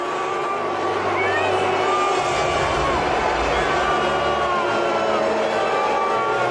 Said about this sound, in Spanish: Se escucha claramente la silbatina y los bu, que son mucho más fuertes que algunos aplausos